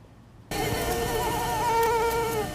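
A steady, high-pitched whine of mosquitoes buzzing close by in Florida, with wavering tones that start abruptly and hold continuously, alone without voices.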